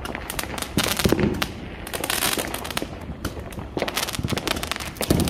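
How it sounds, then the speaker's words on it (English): Fourth of July fireworks and firecrackers crackle and pop in dense, rapid bursts on the east side of Las Vegas, loud and close, with sharp bangs scattered throughout and no voices. "Baby fireworks right here."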